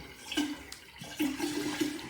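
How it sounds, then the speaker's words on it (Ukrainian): Water poured into alcohol while making a celery tincture, heard as short splashing, gurgling bursts with brief pauses between them. No voices are heard. "Тож додаємо спирту воду."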